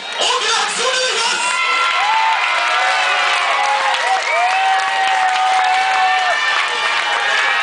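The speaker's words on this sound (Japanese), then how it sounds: "2人大きな拍手をお願い" Loud, sustained applause and cheering from a crowd at a bout, with whoops and shouted calls rising above the steady wall of clapping throughout.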